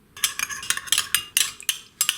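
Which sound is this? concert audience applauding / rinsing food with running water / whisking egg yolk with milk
whisking egg yolk with milk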